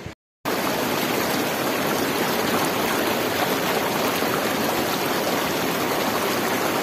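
Mountain stream near the Khunjerab Pass rushing steadily, a loud, continuous broadband roar of flowing water close by after a brief silence at the start.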